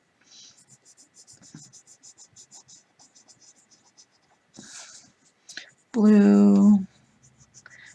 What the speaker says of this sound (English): I'm just coloring along.